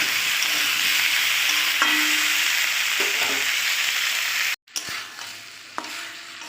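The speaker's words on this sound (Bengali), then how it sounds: "এবারে কষাতে থাকবে।" Spice masala with ground coriander and a splash of water sautés in a pan for a prawn and mixed-vegetable curry: a steady, close hiss with scattered spoon scrapes, a brief cut-out of sound partway, then a quieter sizzle with a few sharp stirring clicks.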